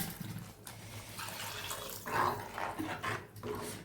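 Water poured from a rinsed mixer jar into a pot of spicy fish curry, a few uneven splashing pours running close and fairly loud for a few seconds, with no talk.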